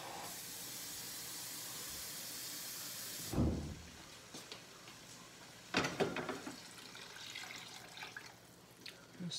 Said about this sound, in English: Now I'm fixing to add me some water to it.